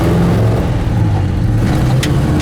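A 1958 Chevy Apache truck with a small-block engine and 4-speed transmission drives along, its steady, loud engine drone heard from inside the cab throughout.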